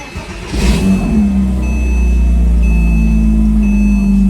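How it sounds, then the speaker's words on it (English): A 2005 Porsche Boxster S 987 cold-starts: a brief burst of cranking catches into a loud, close flare of revs, then settles into a steady, high-idling engine drone. "Here's the last cold start in the Porsche 987."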